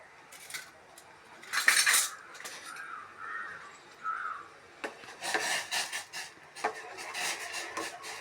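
Masala and noodles stirred in a pan make scraping, clinking utensil strokes against metal in irregular bursts, close and moderately loud, with quiet gaps between and no talk.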